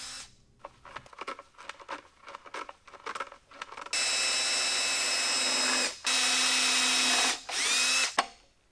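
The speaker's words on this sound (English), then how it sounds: "Now I could finish pre-drilling the 2x6s and attaching the end brackets" A power drill pre-drills reclaimed wooden 2x6 boards for a wall-mounted coat rack, starting with short bursts and light handling clatter, then running loud and steady in three long sustained pulls with brief stops between.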